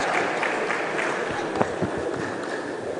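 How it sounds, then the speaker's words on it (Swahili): Audience applause at an ODM party meeting at Bomas, a steady wash of clapping from a large crowd that holds evenly throughout with no one speaking over it. "Round of applause,"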